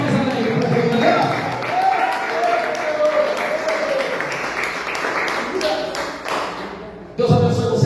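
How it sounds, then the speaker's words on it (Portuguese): A church congregation applauds together, a steady wash of clapping that carries through most of the moment while voices and music sound over it, dipping briefly before resuming. "Aplauda mais alegre para Deus, galera."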